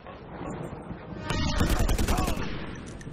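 A burst of rapid gunfire in the open-world game Just Cause 2, several sharp loud shots clustered near the middle of the clip over game ambience and a faint background voice.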